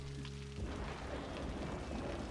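Steady rain hisses in the Cities Skylines city-building game, a dense continuous wash that starts up abruptly after a short tonal hum and carries on alone.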